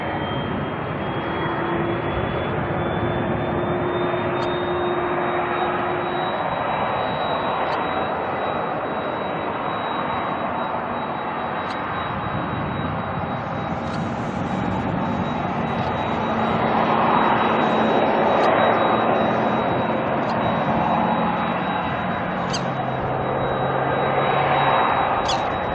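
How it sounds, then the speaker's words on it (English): Boeing 747 cargo jet engines spool up at Auckland Airport, a continuous distant roar topped by a thin rising whine that climbs and then holds steady, with the roar gradually swelling louder later on. "Oh, we're getting spool ups."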